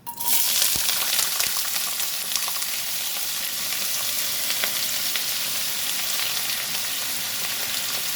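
Chopped beetroot and carrot hit hot oil spiced with cinnamon and cloves, bursting into a loud, steady sizzle and frying hiss heard close up with no talking.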